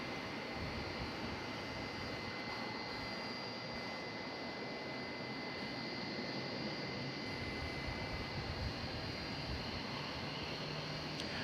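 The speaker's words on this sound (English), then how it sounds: "Here comes that 757, which we saw land a few moments ago." A Boeing 757 jet airliner at DFW Airport at night produces a continuous, fairly distant broadband engine roar that holds steady throughout, with no speech.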